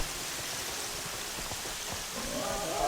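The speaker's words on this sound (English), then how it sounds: "turns the weather into rain." Steady rain falling in the open world of the video game Horizon Zero Dawn near a bandit camp, a continuous broadband hiss that holds at an even level throughout with a slight swell toward the end.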